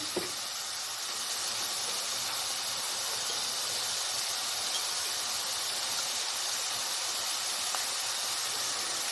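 Spices, including dried coriander, white cumin and garam masala, roasting in a pan for aloo keema make a soft, steady hiss and quiet sizzle, with a small tap at the start and no talking.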